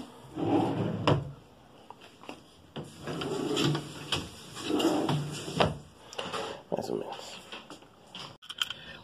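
Drawers on newly replaced slides opening and closing in a home during a handyman job, giving several sliding runs and sharp knocks spread through the clip, with people talking over and between them.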